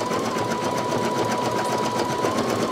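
A Brother NQ3700D embroidery machine sews a satin underlay stitch, a steady fast mechanical whir with a constant hum running unbroken and close throughout.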